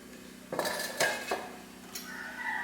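Cut raw mango pieces for oil mango pickle dropped into a metal vessel, giving three or four close, ringing clinks and clatters in quick succession with a faint metallic ring afterward.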